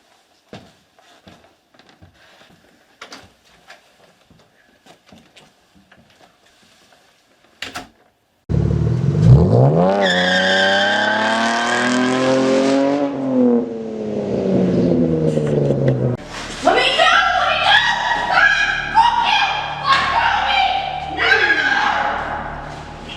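After a quiet stretch of scattered soft thumps, a car engine fires up loudly and revs, rising and falling through several accelerating pulls as it drives off.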